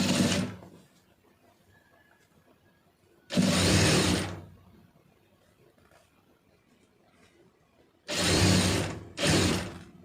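A sewing machine stitching a folded hook placket a quarter inch from the edge runs in three short bursts, one near the start, one in the middle and two close together at the end, with quiet pauses between.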